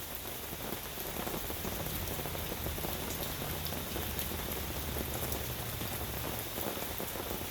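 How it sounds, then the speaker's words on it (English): Steady rain falling on a surface, a dense continuous patter of drops with a low rumble underneath, constant and fairly close throughout with no voices. "Something therapeutical about hearing the rain."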